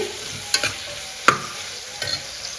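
Onions frying in a pan for pulao, a soft continuous sizzle broken by a few sharp scraping stir strokes of a spoon, close and fairly quiet with no talk.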